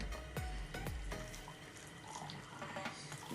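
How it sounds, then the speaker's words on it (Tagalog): Hot water pours from a container into a bowl while making dalgona tea, heard as a steady close splashing trickle with a few gurgling glugs near the start, then a softer continuous flow. "Ilalagay naman natin siya dito sa bowl para mawala na yung tubig niya."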